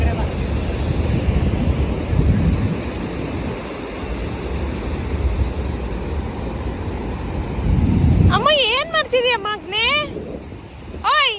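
Ocean waves wash up on a beach in a steady, loud rush of surf with wind noise for most of the stretch, then a voice talks over the water toward the end.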